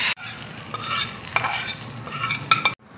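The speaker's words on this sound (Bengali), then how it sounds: "দেখো তড়কাটা দিয়ে দিচ্ছি।" A ghee tadka of dried chili, cumin and Kashmiri chili powder sizzles into matar dal with a bright, crackling hiss and a few clinks of a spoon, close and steady. It cuts off abruptly near the end.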